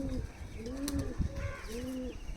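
A small Oman teddy pigeon cooing nearby, three soft, rounded coos repeating at an even pace over low room noise, with no talking.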